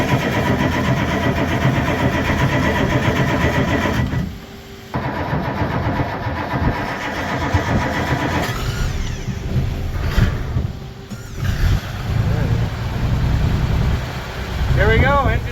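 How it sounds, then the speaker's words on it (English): A Chris Craft boat's second engine cranks, fires and settles into a steady rumbling run, loud and close, with a brief drop around the start and voices talking over it. "There we go, engine number 2,"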